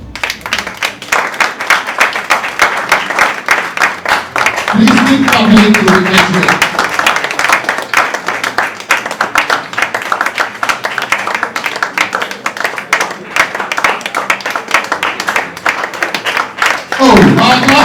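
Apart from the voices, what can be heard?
audience clapping to welcome Mr. and Mrs. Plange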